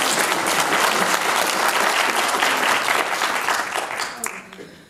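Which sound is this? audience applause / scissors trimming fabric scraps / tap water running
audience applause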